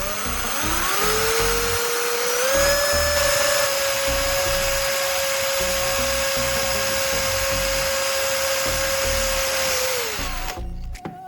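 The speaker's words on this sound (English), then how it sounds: "Take a plastic bottle cap and drill a hole in the center" A power drill bores a hole into the center of a plastic bottle cap, one long steady whine rising at the start, holding for about nine seconds, then winding down, loud and close.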